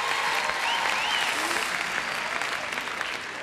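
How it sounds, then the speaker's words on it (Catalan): Audience applause at a spelling game final, a steady dense wash of clapping from a room full of people that holds even for several seconds and eases slightly near the end. "Doncs un aplaudiment per la Judit"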